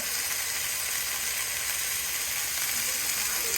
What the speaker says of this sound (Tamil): கபாப்கள் நன்றாக சமைக்கப்படுகின்றன.